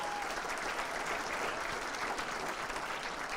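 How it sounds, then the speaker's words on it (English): Guests at the Peekskill St. Patrick's Parade Committee installation dinner applaud the parade chairs, a sustained, even roar of many hands clapping, somewhat distant and uniform in level. "let's have a big round of applause for Joanne and Steve Connor"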